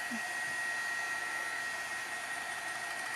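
A hair dryer drying a watercolor painting blows a steady, even whoosh and motor whine, close and unbroken for the whole stretch.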